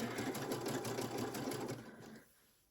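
A sewing machine runs a 3-step zigzag stitch with a 5-hole cording foot, a fast steady mechanical whir and tick lasting about two seconds before slowing and stopping.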